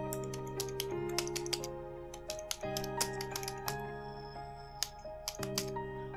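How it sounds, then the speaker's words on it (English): Rapid clicks of typing on a computer keyboard, a quick irregular run of close, crisp keystrokes over a steady background hum. "So just type in ThaWizz."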